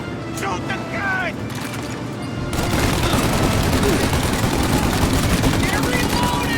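Heavy gunfire in a Mafia: Definitive Edition shootout, a dense, continuous fusillade of rapid shots that grows louder partway through, with shouting voices mixed in.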